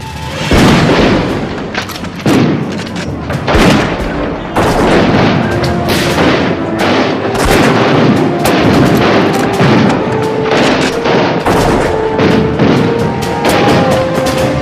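Dense volley of gunfire in a recreated Homestead strike battle: loud, overlapping booming shots and rapid cracks fire continuously for the whole stretch, some distant and heavy like cannon, others sharp and close, with no pause in the barrage.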